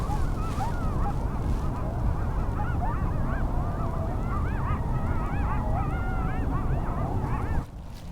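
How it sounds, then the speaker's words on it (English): Coyotes near the Hollywood sign at night, a loud close chorus of wavering yips, howls and honking cries that carries on for most of the stretch before suddenly cutting out near the end. "I don't know if you could hear those coyotes, but that is pretty cool."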